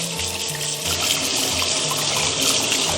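Running tap water splashes steadily over pork ribs being rinsed clean in a kitchen, a continuous close hiss and trickle that stays loud and even throughout, with no voices over it.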